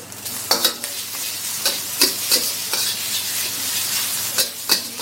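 Grilled pork with onions stir-fries in a hot pan, a steady loud sizzle punctuated by repeated sharp scrapes and clacks of a spatula tossing the meat.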